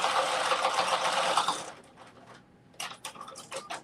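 Sewing machine running a quick back stitch on a headband or mitten piece, a short buzzing burst that stops and is followed by a few soft mechanical clicks and taps.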